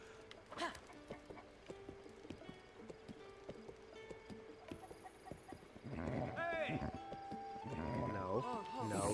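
Horse hooves clip-clop steadily in The Legend of Zelda: Breath of the Wild, joined later by whinnying neighs over game music, with a person talking at times.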